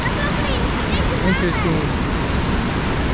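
Molinuco waterfall in Ecuador rushing loudly and steadily with a broad, close roar, while a person speaks briefly over the water noise.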